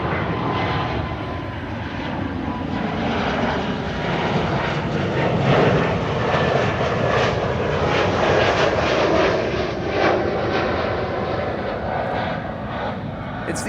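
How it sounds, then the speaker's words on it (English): A KLM Boeing 787-9 jet airliner at Amsterdam Schiphol Airport gives a loud, steady engine roar that holds for the whole stretch without fading, broad and sustained as the aircraft passes fairly close. "KLM flight 789 also being flown by a Boeing 789, which is nice."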